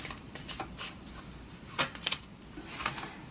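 Tarot cards are shuffled and drawn in a series of quick, soft riffling bursts and flicks. The sound is faint and close, with a few sharper snaps near the middle.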